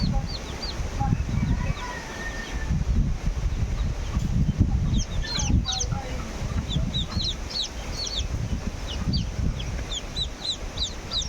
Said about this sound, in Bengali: তো মা মুরগির বাচ্চাগুলো